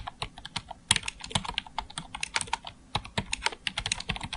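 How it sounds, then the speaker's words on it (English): Quick, irregular keystrokes on a computer keyboard, close and clear, with short bursts and brief pauses between clicks and no voices. "I'm going to click once and just start typing."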